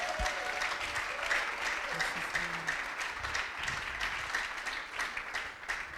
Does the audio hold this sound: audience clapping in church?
yes